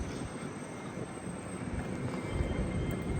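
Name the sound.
Class 387 train, Great Northern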